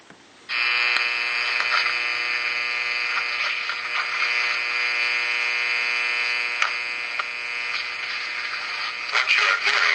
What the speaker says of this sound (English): what you are hearing is sound that's actually coming from this LED.